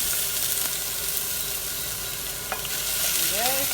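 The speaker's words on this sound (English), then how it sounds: "quickly fry up my spring onions" Spring onions fry in a hot pan as the base of a beef bolognese, a loud, even sizzle with a couple of sharp clicks and a brief rising squeak near the end, no voices.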